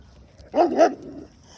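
A dog gives two quick close barks in a row during a street training session, fairly loud against a quiet background.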